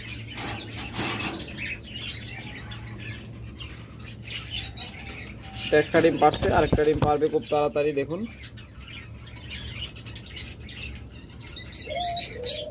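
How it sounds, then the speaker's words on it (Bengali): Diamond doves (ghughu) in a bird seller's cages give soft chirping calls with brief wing flaps, clustering mid-clip, while someone talks over them most of the time. "সকল কালারের ঘুঘু পাখি আমাদের কাছে রয়েছে"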